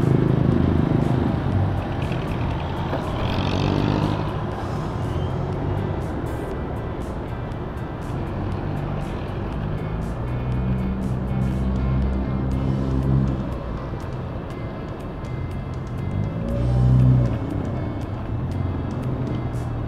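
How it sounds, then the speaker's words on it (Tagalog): Light to moderate road traffic below the C5 extension Quirino flyover, a steady wash of car and truck engines passing nearby with occasional louder vehicles swelling and fading. "Medyo light to moderate traffic lang dito sa may baba."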